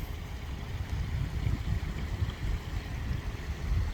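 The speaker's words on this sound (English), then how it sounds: "looks like we got a couple more streams right here that run off the mountain" Small mountain streams run over and under rocks along a backroad near Whitwell, Tennessee, a constant low rushing burble with a steady, slightly pulsing water roar and no voices.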